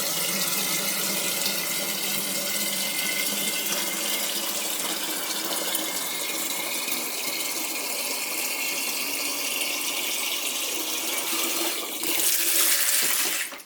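Tap water runs steadily and loudly into a vessel of hot water being cooled for brewing an IPA in a Pinter, a continuous close splashing rush that swells briefly near the end, with no talking.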